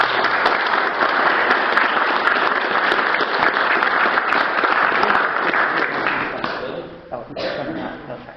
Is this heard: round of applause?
yes